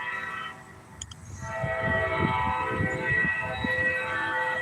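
A train horn blows a sustained multi-tone chord over rumbling rail cars, the horn holding steady and fairly loud while the wheels rattle underneath.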